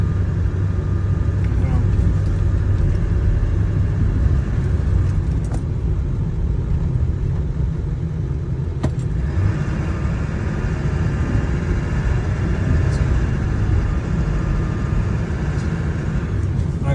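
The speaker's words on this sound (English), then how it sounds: "just driving around." High-mileage Ford F-250 pickup truck driving, a steady low engine and road rumble heard from inside the cab, with a person talking over it.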